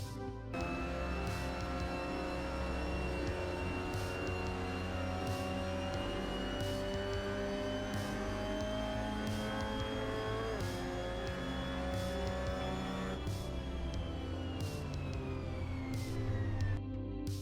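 A Mazda MX-5 Cup race car laps Autodrom Most in Assetto Corsa, its engine a steady high-revving whine that climbs through the gears, with repeated short clicks of gear shifts and no talking.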